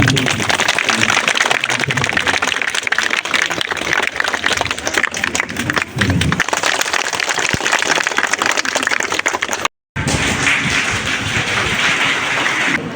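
An audience claps at a balloon and pigeon release during a 25th anniversary silver jubilee ceremony for SIL International. The dense, continuous applause goes on throughout, with one brief gap.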